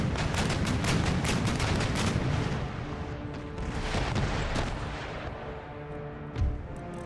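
Rolling cannon broadside from sailing warships in the naval battle game Empire: Total War, a loud continuous barrage of overlapping booms that thins toward the end, capped by one last close blast.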